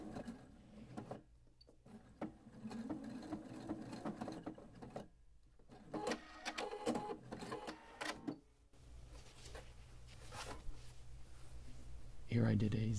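Sewing machine running zigzag stitches across fabric seams in bursts of rapid mechanical patter, with pauses and handling sounds between runs and a voice talking over parts of it.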